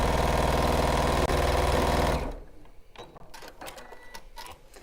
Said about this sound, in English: The most important thing to remember is don't sew through the lining.